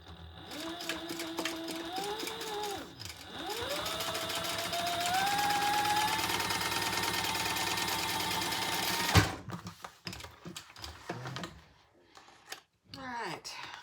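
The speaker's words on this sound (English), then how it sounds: "I forgot to top stitch down here." A sewing machine top-stitches a rounded make-up bag, its motor whirring steadily in bursts that change pitch as the speed shifts, then stopping abruptly partway through, followed by quieter handling noises.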